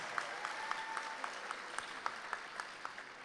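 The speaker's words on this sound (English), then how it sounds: "give her a big round of applause" Faint, sparse clapping from a small audience at the 2025 Connecticut History Day awards ceremony: light, evenly spaced hand claps that carry on steadily and quietly for a few seconds.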